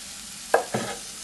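Garlic and scallions go into a chickpea burger mixture in a pan, making two quick scraping stirs over a low, steady sizzle.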